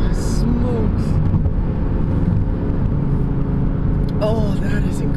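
A 2017 Audi R8 sports car accelerates hard with a loud, sustained engine roar heard from inside the cabin, steady and powerful throughout, with a few brief voice sounds.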